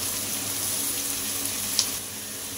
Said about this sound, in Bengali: সবজিগুলো ভালো করে তেলের সঙ্গে ভেজে নেব।